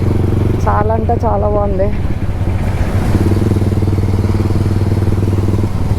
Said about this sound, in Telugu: క్రేజీ ఉంది ఇది ఎగ్జాస్ట్ నోట్.